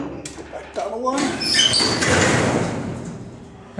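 A heavy freight elevator door in a former shopping mall slides and rumbles shut with a broad grinding rush that swells and fades over a few seconds, close and loud.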